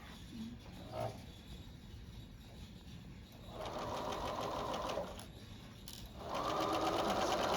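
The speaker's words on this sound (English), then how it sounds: "So I'm just gonna sew this real quick and let you see how it works." A sewing machine stitches a seam in two clear bursts of fast mechanical whirring, separated by short pauses and quiet handling sounds, fairly faint and close, with no speech.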